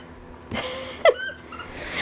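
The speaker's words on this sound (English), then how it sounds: "Bliss has got a squeaky toy." A squeaky pet toy gives a few short, sharp squeaks over quiet room hiss, close by and irregularly spaced.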